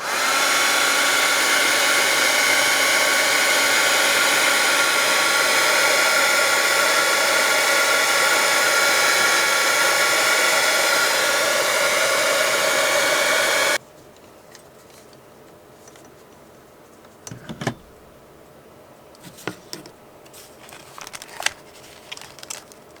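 Hair dryer blowing steadily to dry paint on a hand-painted junk journal booklet made from envelopes, a loud continuous whoosh for about fourteen seconds that cuts off abruptly, leaving faint paper handling and light clicks.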